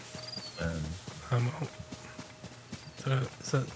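Horse hooves clip-clop in Zelda: Tears of the Kingdom, with bokoblins riding, a few soft rhythmic hoof strikes under ongoing conversation.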